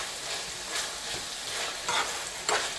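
Shepherd's pie filling simmers in a pan with a soft, steady bubbling hiss, punctuated by faint pops and a few small clinks toward the end.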